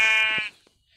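A Minecraft sheep gives a short, bright, buzzy bleat up close, lasting about half a second before cutting to near silence.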